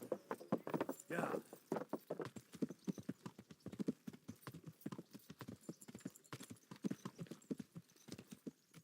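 Horse hooves clip-clop steadily along a path in the medieval video game Kingdom Come: Deliverance, with a quick rhythmic patter of steps. Voices talk over the clopping at points.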